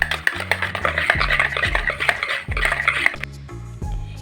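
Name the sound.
whisking sour yogurt (curd) in a bowl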